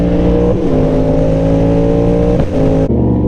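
An Audi RS6 holds a loud, steady, close engine drone that sweeps up and down in pitch, then drops off abruptly near the end, with no talking over it.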